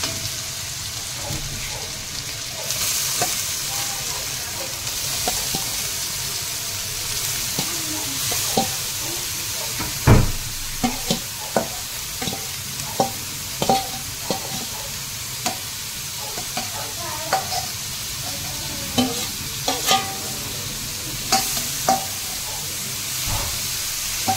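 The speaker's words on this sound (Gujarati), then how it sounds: "આ ઘી ગરમ થઈ ગયું છે એટલે હવે આમાં આપણે ગાજર નાખી દેવાના" Grated carrots fry in hot ghee over a medium flame, a continuous close sizzle and hiss with repeated clinks and scrapes of a spoon stirring, and occasional soft speech beneath.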